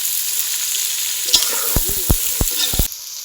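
Chicken cooks in a pan with tomato and onion for a Chettinad pepper chicken gravy, giving a steady close sizzle broken by several sharp scraping stirs, with no talk.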